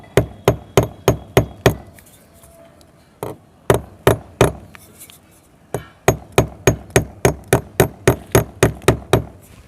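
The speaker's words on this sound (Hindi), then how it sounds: "इस तरह से आपकी ये कीलें ठुक जाती है" A hammer drives a nail into a wall, sharp loud blows in quick steady runs of strikes with brief pauses between sets, close and ringing, with no speech.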